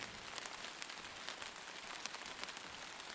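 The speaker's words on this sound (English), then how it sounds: "of the rain falling on the earth" Rain falls on the earth in a steady close patter, with scattered louder drops crackling across a continuous soft hiss.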